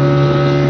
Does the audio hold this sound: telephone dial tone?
no